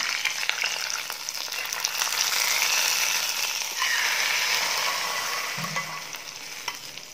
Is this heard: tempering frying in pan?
yes